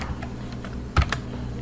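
Keystrokes on a computer keyboard while entering commands at a MySQL command prompt, a light scattering of soft taps with one sharper, louder cluster of clicks near the middle, close and clear with no talking.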